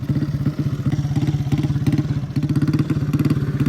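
A motorcycle engine at a desert bike race idles and pulses in a fast, even, throbbing beat, close and loud throughout without pause.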